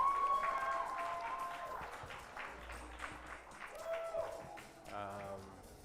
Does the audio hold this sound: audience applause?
yes